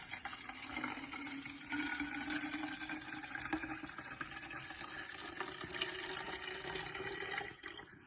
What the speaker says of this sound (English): So I'm going to fill my little pot with water.